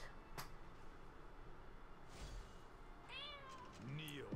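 Domestic cat meowing near a gaming setup: a couple of clear rising and falling meows toward the end, heard over a steady background hum.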